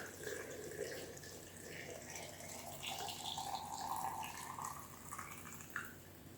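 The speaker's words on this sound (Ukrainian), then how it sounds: "гарячим розсолом заливаємо огірки до самого верху" Hot brine is poured over cucumbers packed in a jar for pickling, a soft, continuous trickle of liquid running at low level for several seconds with faint background noise.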